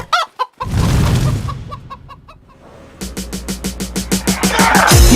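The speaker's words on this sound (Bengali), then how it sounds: "এতলা ডিমা পাড়িয়া মুরগি গিলা" Hens cluck and squawk close by, a few calls first, then a broad burst of flapping noise, then a quick steady series of clucks building in loudness, with a rising squawk at the end.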